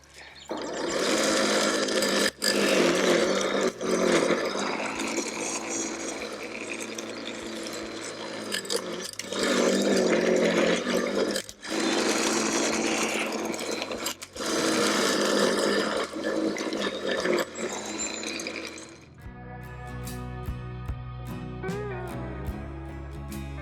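A lawn scarifier runs across a spring lawn, its engine and raking blades droning loudly in long stretches broken by brief dips, before cutting out to leave quieter background sound.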